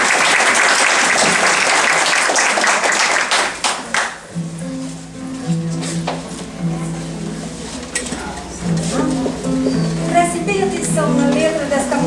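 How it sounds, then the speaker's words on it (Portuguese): Audience applause at a Spiritist talk, a broad wash of clapping that fills the opening four seconds and then gives way to a choir beginning to sing. "uma salva de palmas para a Vilminha e para o Joy"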